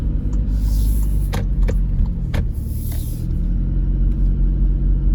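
A car accelerates on an open road to overtake a truck, a heavy steady engine rumble heard from inside the cabin with a few sharp clicks and knocks along the way.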